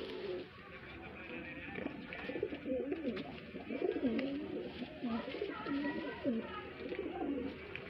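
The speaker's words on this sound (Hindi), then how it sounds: "ये गोल्डन गधा कबूतर है।" Golden flying pigeons coo in low, rolling bursts through most of the stretch, close by, with a steady murmur of background noise and possible faint talk.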